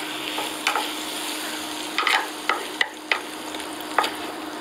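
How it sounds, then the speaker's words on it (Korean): Stir-fried pasta sizzles in a pan and is stirred with a few scattered scraping clicks as it is readied to plate, a steady frying hiss underneath, close and moderately loud with no talking. "다 볶아졌으니까 이제 담을게요."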